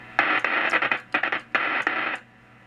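In short, irregular keyed bursts, a simulated rotary spark gap transmitter running at 1 kHz gives off a raspy, electric buzz that stops and starts like Morse, moderately loud and without speech.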